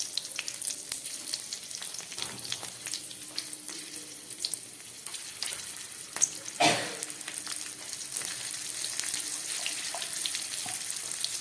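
Hing, chilli and bay leaf sizzle in hot oil as a tempering for arhar dal, a steady crackling fry with a sudden louder hiss burst partway through as more spices hit the pan.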